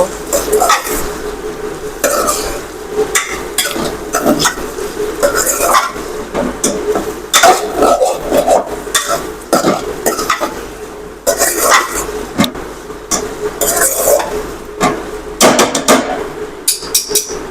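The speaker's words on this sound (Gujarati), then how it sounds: "આપણે તેમાં આદુ લસણની પેસ્ટ નાખી દઈએ અને આપણે તેને સારી રીતે હલાવી લઈશું" Ginger garlic paste stirred into softened tomatoes in a pan, with busy, frequent scraping and knocking of a spoon on metal over a light sizzle, close up and continuous.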